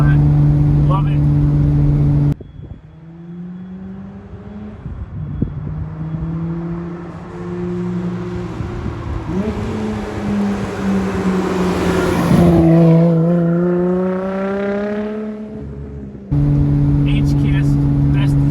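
Nissan R32 GTR on HKS Hipermax S suspension driving over sewer grates on a road, with a steady engine drone that rises and falls through gear changes, heard from inside the car; people talk at the start and end.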